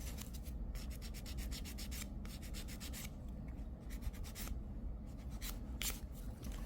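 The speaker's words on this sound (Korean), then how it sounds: "옆을 보면서 하이 포인트 어느 정도 갈아 주시면 돼요." Rapid back-and-forth rasping of a file across the surface of an extended fingernail, shaping the high point; steady, close, dry scratching strokes in quick bursts with brief pauses, no voices.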